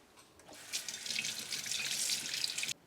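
A celery stalk rinsed under a running kitchen tap, with water splashing steadily into the sink for a few seconds before shutting off abruptly.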